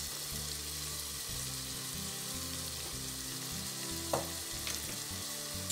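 Chicken hearts are stirred in a multicooker, sizzling steadily up close with soft scraping from the stirring and a few sharper clinks near the end.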